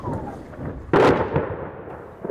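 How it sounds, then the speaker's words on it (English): A single sharp explosion of a shell landing nearby booms against a rumbling outdoor background, followed by a fading rumble, near the bridge in Kherson, Ukraine. "Shells landed around Ukrainian positions and, it seemed, near houses."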